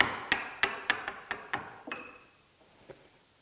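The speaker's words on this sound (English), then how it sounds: "And then I can just come in from the end and chip out the waste." Chisel chipping out waste wood for dovetails: a series of about seven sharp, close taps at a steady rhythm, then a pause and a single fainter knock.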